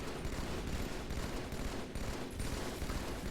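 Shade Turret fire in Halo 2 multiplayer, a steady unbroken stream of rapid shots forming a dense continuous roar, fairly loud and close with no talk over it.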